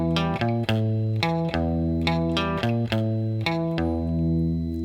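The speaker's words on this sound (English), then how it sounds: "Again, it's going to be with a clean sound, and it's going to be very subtle." A guitar with a clean, subtle tone plays an intro riff, repeating picked notes ringing over a sustained low note, steady and alone.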